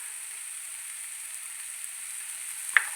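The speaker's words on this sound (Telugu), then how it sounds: "బాగా మంచి ఫ్రై అయిన గోల్డెన్ బ్రౌన్ వచ్చేదాకా." Vegetables for momos fry in a pan with a steady, soft hiss and faint crackle, close and even, with one small tick near the end.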